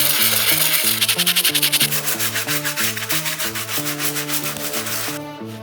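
A stiff bristle brush scrubs the outsole of a suede New Balance sneaker in circular motions, making fast, steady, close rubbing strokes over music playing in the background.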